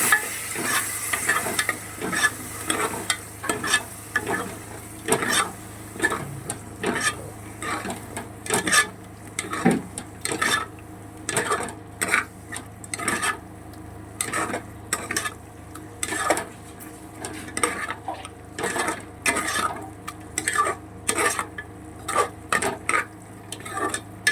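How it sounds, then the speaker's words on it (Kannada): Thick curd being stirred into a hotel-style vegetable biryani mixture in a pan: repeated close scraping and clinking of a spoon against metal over a soft sizzle, in irregular bursts for over twenty seconds, with no talking. "ಒಂದು ಕಪ್ಪಷ್ಟು ಗಟ್ಟಿ ಮೊಸರನ್ನ ಆ್ಯಡ್ ಮಾಡಿ ಇದನ್ನು ನೀಟಾಗಿ ಮಿಕ್ಸ್ ಮಾಡ್ತಾರೆ"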